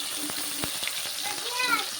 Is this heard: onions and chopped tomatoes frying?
yes